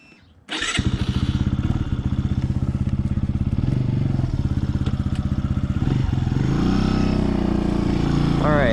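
A 2021 Benelli TNT135 motorcycle starts with a thump and settles into a loud, close, rapid engine putter that holds steady, then revs and rises in pitch near the end.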